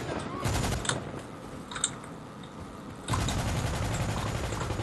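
Gunfire in the 2010 Medal of Honor video game, with a few sharp shot-like bursts rising over a steady dense battle din, all at moderate loudness and fairly distant.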